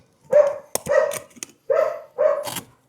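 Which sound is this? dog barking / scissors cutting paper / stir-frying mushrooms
dog barking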